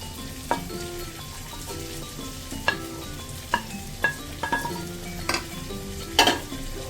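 Chopped onion, garlic and ginger frying in hot oil, a steady sizzle broken by repeated scraping stirs and light clinks of a utensil against the pan, close and moderately loud with no talking.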